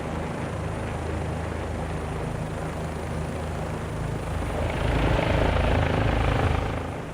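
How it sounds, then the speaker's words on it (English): A helicopter in Microsoft Flight Simulator flies over an Australian city, its steady rotor and engine drone filling the clip and swelling louder toward the end, with no voices. "this is me in a helicopter"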